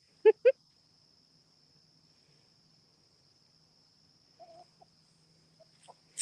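Free-range backyard chickens give two quick, clear clucks up front, then softer scattered calls trail off later over a steady high insect drone and otherwise quiet surroundings.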